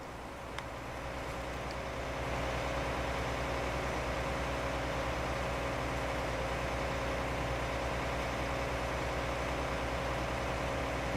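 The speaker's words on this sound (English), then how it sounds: "That's a monster tractor. Look at that tractor." A tractor engine idles in Farming Simulator 19, a steady low drone with faint harmonic hum that holds evenly for the whole stretch, growing slightly louder after the first couple of seconds, with no talk over it.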